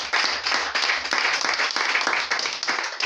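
Congregation clapping and cheering in a church service, dense steady applause with vocal shouts rising throughout, fairly close and continuous.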